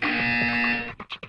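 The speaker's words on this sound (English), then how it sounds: "You will hear a buzzer." A loud, harsh electronic buzzer in the video game Portal 2 sounds steadily for about a second, then cuts off into a few short bursts.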